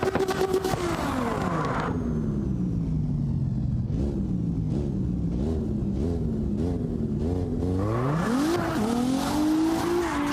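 A race car in a qualifying round launches hard and accelerates, its engine revving up through rising pitch sweeps with tire squeal, loud and close, no talk.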